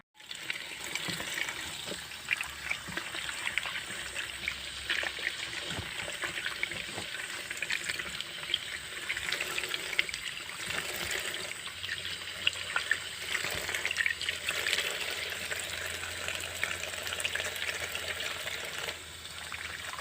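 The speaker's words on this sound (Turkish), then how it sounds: "Şimdi öncelikle domateslerimizi bir yıkayalım." Running tap water splashing steadily over tomatoes being washed in a kitchen, a continuous close hiss and trickle with small clunks and handling noises throughout.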